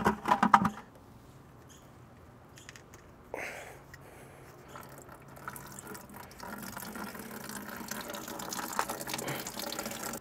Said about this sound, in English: we have to drain the radiator and start flushing.